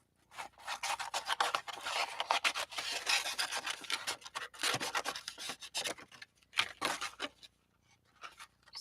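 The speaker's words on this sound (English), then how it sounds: "I think I was scraping up some paint with this." Paint being scraped up with a hand tool as part of a recycled chess piece project: close, raspy scraping strokes that repeat unevenly, with a few short pauses and no talking.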